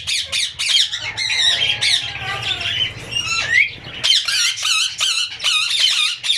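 A breeding pair of green ringneck parrots squawks loudly and close, in rapid shrill bursts and short chattering calls with brief pauses between runs.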